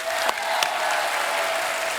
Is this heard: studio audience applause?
yes